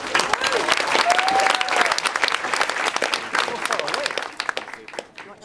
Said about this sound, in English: Gentlemen, a round of applause for Mr. Ryan Grant.